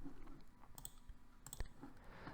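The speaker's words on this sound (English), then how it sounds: "We'll click it 3 times to where we want our reference points to be." A computer mouse clicks three times, sharp and close, each click a short isolated tick spaced about three-quarters of a second apart over a faint background hum.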